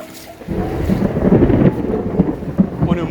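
Deep rumbling thunder rolls in during a thunderstorm beside a river, a loud low growl that swells and lingers for several seconds amid wind buffeting the microphone.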